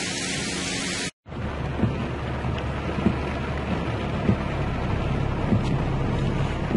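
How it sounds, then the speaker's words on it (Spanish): Heavy rainstorm pouring over the streets of Pénjamo before dawn, a steady dense hiss of rain and runoff that fills the clip loudly and evenly after a brief dropout near the start, with no voices. "Vamos a ver otras arterias para que ustedes puedan apreciar la magnitud de esta tormenta."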